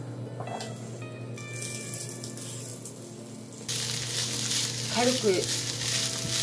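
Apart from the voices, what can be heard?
garlic chives frying in a pan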